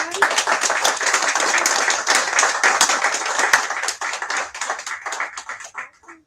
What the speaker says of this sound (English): y'all want a round of applause one more time?